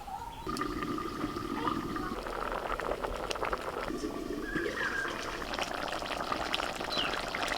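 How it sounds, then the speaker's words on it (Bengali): Rice boils in milk and added water in a pot with cardamom, a quiet, steady bubbling and churning of liquid heard throughout, with a few faint tonal sounds in the background. "এবার দুধের সঙ্গে চালটা সেদ্ধ হোক"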